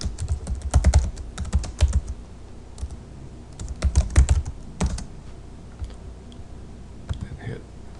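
Keys clatter on a computer keyboard as a blog comment is typed, bursts of quick close clicks separated by short pauses, with no talking.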